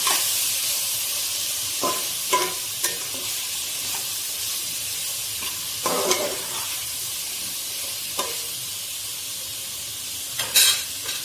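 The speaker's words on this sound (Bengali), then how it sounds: "সব দিয়ে এখন নেড়ে নেব।" A pan of spices sizzles and hisses steadily on a stove while cooking for a taro stem and hilsa head curry, with occasional scraping stirs of a spoon breaking through the continuous frying noise.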